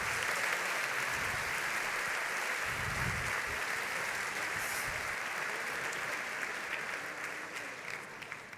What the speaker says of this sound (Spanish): esos aplausos merecidos